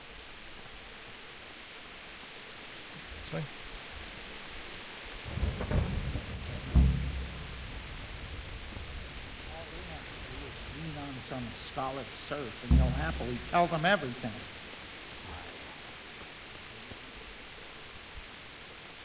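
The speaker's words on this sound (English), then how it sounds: "And it's raining." Steady rain hiss fills a dark scene in the video game Kingdom Come, with low rumbling thunder rolling in partway through, while voices talk over it.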